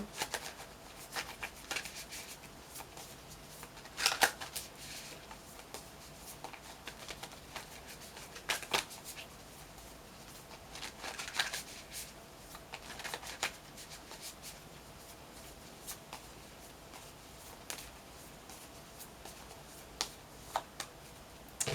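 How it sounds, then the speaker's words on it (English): Affirmation cards are shuffled and pulled during a tarot reading: quiet, close riffling and flicking with a few sharper card snaps spread across the stretch, soft and intermittent. "let's pull an affirmation card for the end of your session"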